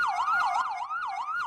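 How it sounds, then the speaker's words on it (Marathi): An ambulance siren wails continuously in a smooth rising and falling sweep that repeats about every half second, clear and fairly close with no other sound. "ऍम्ब्युलन्सचा आवाज आहे"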